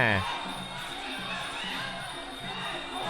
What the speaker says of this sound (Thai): ดูครับเสียงเชียร์นี่ไม่มีเงียบเหงาครับ